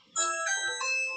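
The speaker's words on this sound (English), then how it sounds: "That's the sound of the Ring Video Doorbell." A Ring Video Doorbell chime rings out as a short melodic run of bright, bell-like tones, a few notes in quick succession, clear and close with nothing else around it.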